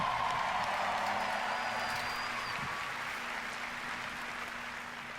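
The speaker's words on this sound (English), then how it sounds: "Another round of applause," An audience applauding at a Bethesda E3 presentation, a steady wash of clapping that slowly fades over several seconds.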